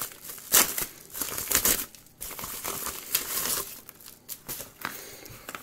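Packaging for a Youbao power bank being opened by hand, with close, loud crinkling and crumpling of plastic wrap in irregular bursts and brief tearing, and no speech.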